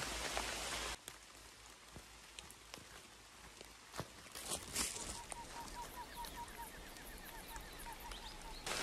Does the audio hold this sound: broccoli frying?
no